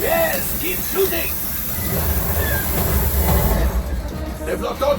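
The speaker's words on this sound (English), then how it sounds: "There's the train." A train rumbles and hisses in the Star Wars Galaxy's Edge Smugglers Run ride simulation, a loud, steady low roar with spray-like hiss, while voices talk over it throughout.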